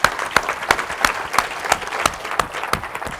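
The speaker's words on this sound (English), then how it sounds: "So we're going to give you another round of applause." An audience gives a round of applause at a NOAA stage event, dense steady clapping from a crowd for a few seconds with small rhythmic swells.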